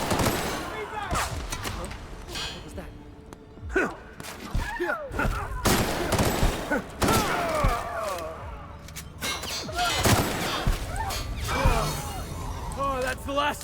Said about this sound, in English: They actually shoot like hell.